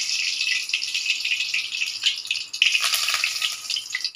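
Curry leaves frying in sunflower oil, with a steady close sizzle and crackle that holds through the whole stretch and pops a little louder near the end.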